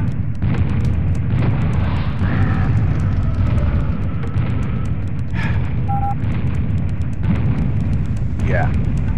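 A lava gun fires in the video game Serious Sam HD with a continuous roaring, rumbling blast that stays loud and dense throughout, with a voice talking over it.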